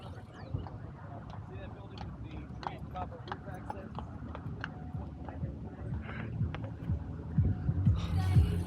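Hooves of a horse-drawn calesa carriage clip-clop in a steady rhythm on a New York City street, moderately close amid traffic hum, with someone talking over it at the end.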